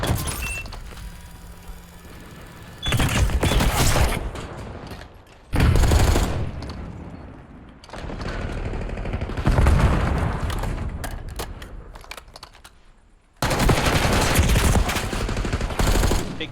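A tournament match of a first-person shooter video game with dense gunfire. The game audio carries repeated loud bursts of automatic fire and booming blasts in several sections, with short quieter gaps between them.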